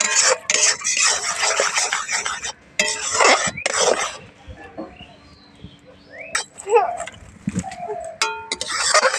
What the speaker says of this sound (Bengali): এবারে ভালোভাবে নাড়াচাড়া দিয়ে দিতে হবে। এবার নেড়ে নেড়ে একদম ঘন করে নিতে হবে।